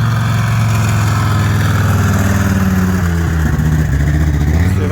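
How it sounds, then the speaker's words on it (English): An unlimited banger race car engine runs loud and dry with no oil, a harsh rattling drone at steady revs with a rough, uneven edge at a Scottish raceway. "This engine sounds like there's absolutely no oil in it."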